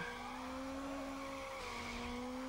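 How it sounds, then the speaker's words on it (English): A car drifting in Need for Speed Underground, with a sustained tire squeal over a steady engine drone, heard fairly quietly and continuously with no talk. "Look, I'm drifting!"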